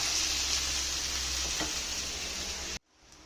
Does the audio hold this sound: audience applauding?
no